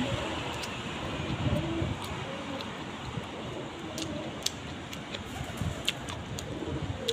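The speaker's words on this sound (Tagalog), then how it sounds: "Ang daming nalipad na ibon." Flock of pigeons outdoors near a table, cooing steadily against a constant broadband background, with faint birdcalls scattered throughout and no clear wingbeats standing out.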